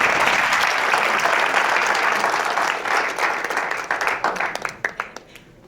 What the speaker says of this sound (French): JC, on applaudit JC.